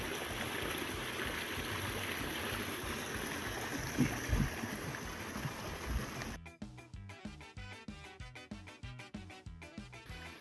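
The Winhall River in Vermont rushes along with a steady broadband flowing wash, close and continuous, before the sound breaks into choppy, interrupted bursts near the end.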